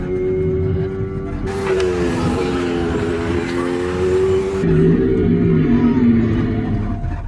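A Mercedes-AMG Petronas Formula 1 car lapping the Sakhir Grand Prix circuit at high speed gives a loud, steady engine drone from on board, rising in pitch through the gears with a brief dip and shift partway through.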